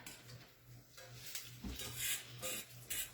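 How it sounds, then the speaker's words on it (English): A soft, steady sizzle of an egg frying in sesame oil in a pan, with light clinks and taps of a utensil against cookware. "You can hear the sizzle."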